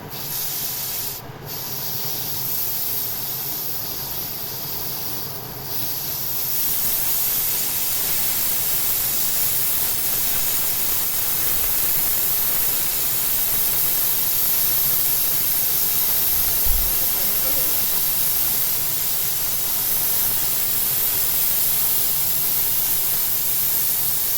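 Steam rushes out as pressure is released from an Afghan kazan cooking stewed potatoes with mushrooms, a loud continuous hiss that holds steady for the whole stretch.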